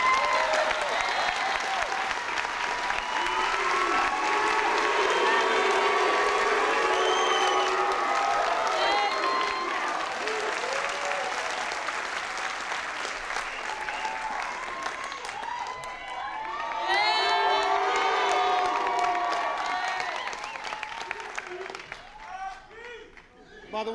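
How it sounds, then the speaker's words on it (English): Large audience at an AmeriCorps swearing-in ceremony applauds and cheers, steady clapping with voices and shouts mixed in, swelling again midway and fading toward the end. "that's a little love clap we have this afternoon"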